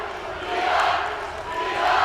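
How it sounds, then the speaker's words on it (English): Home crowd at a Texas high school bi-district basketball playoff game chanting for defense, a steady, loud massed roar of voices filling the gym throughout. "Chance of D-up from the Ranger crowd."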